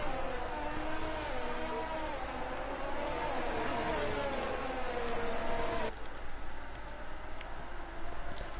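Open-wheel F1 cars from the F1 22 racing game roll through a formation lap on a wet French circuit, a steady droning whir of several engines with rising and falling harmonic tones, moderately loud and continuous.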